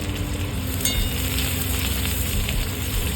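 Chopped onion fries in oil in a pan, giving a dense, steady, close-up sizzle that holds without a break and has no talk over it.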